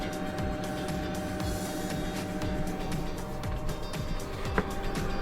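A Webasto diesel air heater's fan blows hard inside a converted 4x4 camper truck, a continuous whirring hum with steady tonal drone and faint clicks, close and unbroken, with no talk.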